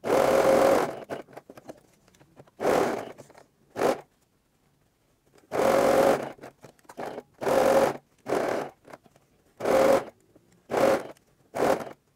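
A sewing machine stitches a fabric face mask in several short bursts separated by pauses, close and clear, with the whirring runs of stitching starting and stopping repeatedly.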